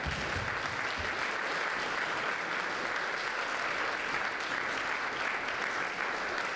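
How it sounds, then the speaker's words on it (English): A lecture audience at a celebration saluting Malcolm X bursts into steady, dense applause, a full room of clapping hands that holds at an even level throughout. "let's give ourselves a round of applause"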